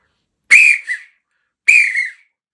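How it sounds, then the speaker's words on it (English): Two short, shrill whistled calls from a turkey call whistle, each with a quick two-part chirp, separated by a pause and sounding close and clear. "So I got started using this whistle here."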